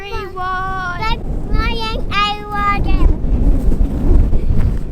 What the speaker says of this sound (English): It's windy and it's rainy